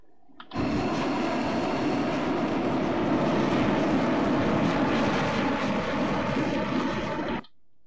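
Military jet in DCS World flight simulator, a sudden onset of loud, dense engine roar that holds steady for about seven seconds before cutting off abruptly.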